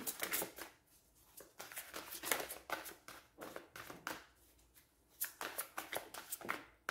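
Tarot cards are shuffled and drawn by hand in quick, soft riffling bursts that come in uneven clusters, quiet and close, with no talking.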